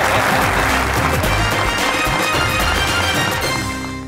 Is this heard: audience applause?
yes